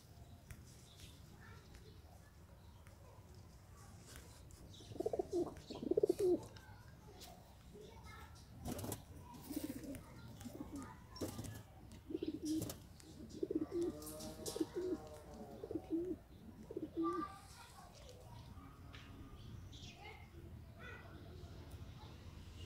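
Pigeons coo in soft repeated bursts in a village loft in Swabi, while someone talks over them throughout and other birds chirp faintly in the background.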